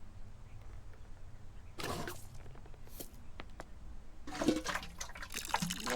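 Water pours onto soil in a plant pot in the gardening game Botany Manor, in two short splashing bursts separated by a quiet gap, faint and close.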